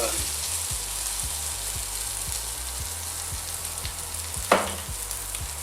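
Tomato paste frying with carrots in a pot, a soft continuous sizzle with faint rhythmic low thumps and one brief louder scrape of stirring.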